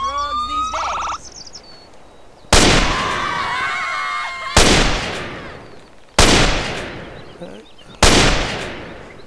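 Four loud, sharp rifle shots from a Cutgun rifle in GTA San Andreas, spaced about two seconds apart, each with a decaying echo, following a brief electronic tone at the start.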